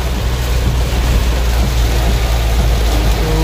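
Heavy rain pours down in a strong May downpour in the Philippines, a dense, loud, continuous roar with deep rumbling underneath and no talk.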